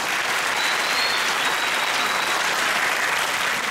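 An audience at a veterans' association lecture gives sustained, full applause, many hands clapping in an even, loud roar that holds without letting up for several seconds.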